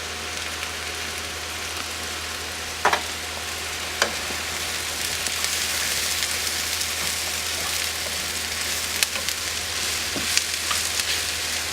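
Onions and mushrooms sauté in olive oil with thyme in a pan, a steady, even sizzle and crackle running throughout, with a few faint clinks of stirring.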